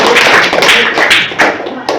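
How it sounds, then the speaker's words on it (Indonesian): Students applaud together in a classroom after the first group finishes its presentation, a dense crackle of hand claps close by that holds steady for about two seconds. "Kita beri aplaus."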